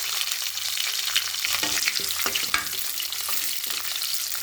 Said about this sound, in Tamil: நல்லா கொஞ்சம் வதக்கலாம்